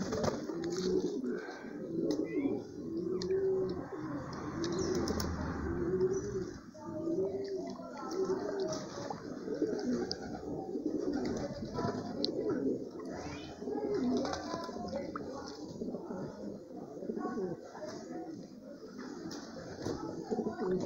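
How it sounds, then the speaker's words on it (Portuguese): Pigeons coo steadily through a communal Sunday bath in apple-cider-vinegar water, with soft repeated coos close by, scattered chirps and light rustling throughout. "Banhozinho dos pombos no domingão brabo."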